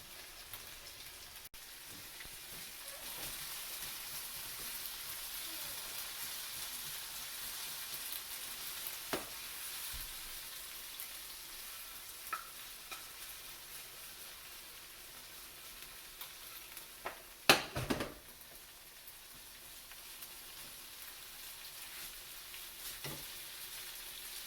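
Red onion cooking in a little olive oil in a pan over very low heat, giving a steady soft sizzle with scattered pops and one louder clatter partway through.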